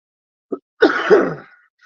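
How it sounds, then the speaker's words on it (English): A short throaty cough, then a longer rough hacking cough, close and loud against silence. "Still coughing."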